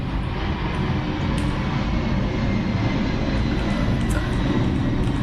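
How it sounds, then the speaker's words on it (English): A loud airplane roars overhead in a steady, continuous broadband rumble that stays strong and close throughout, with no talking. "It's a really loud plane."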